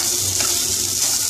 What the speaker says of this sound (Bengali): ভাজবো